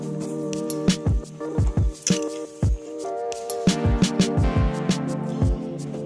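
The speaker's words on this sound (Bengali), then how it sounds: "এবার আমি ফ্লেম বন্ধ করে দেব, দিয়ে একটু পাত্রে এটা ঢেলে নেব" Tamarind tomato soup is poured into a bowl, giving wet, irregular splashes and drips, close and fairly loud, with soft glugging between them.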